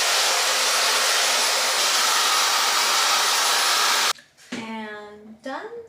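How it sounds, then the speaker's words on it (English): A Dyson hair dryer blows loudly with a steady airy roar for several seconds, then cuts off as a voice begins speaking. "Now we're gonna dry the hair."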